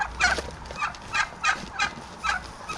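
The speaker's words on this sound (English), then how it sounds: "I got the turkeys over there, the chickens over here watching" Turkeys gobble repeatedly in bursts of rapid warbling calls, at moderate distance, with no talking.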